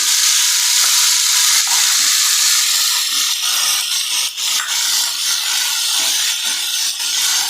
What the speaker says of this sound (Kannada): ನಾವಿವಾಗ ಟೊಮೆಟೊ ಹಣ್ಣನ್ನ ಹಾಕ್ಕೊಂಡು ಬೇಯಿಸ್ಕೊಳ್ಳೋಣ